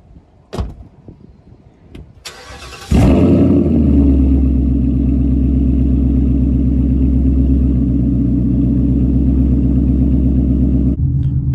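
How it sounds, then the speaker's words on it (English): A tuned Mustang GT running on 91 octane fires off after a couple of clicks and clunks, then a loud, sustained engine roar holds strong and rough for several seconds before easing off near the end. "We're going to do some real first impressions on a full dig in my tuned Mustang GT"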